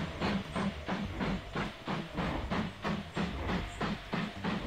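A new steam locomotive runs in the railway-building game Mashinky, with rhythmic chuffing bursts of steam in a steady, even beat, loud and close, and a low rolling hum beneath, alone without talk.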